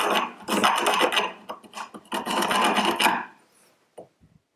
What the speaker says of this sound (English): So I have some little half-round files here.